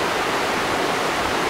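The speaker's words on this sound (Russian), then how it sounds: "Вот они, водопадики в горах Кабалдино-Балкарии." Mountain waterfalls in Kabardino-Balkaria pour in a steady, even hiss of falling water, close and unbroken, with no voices.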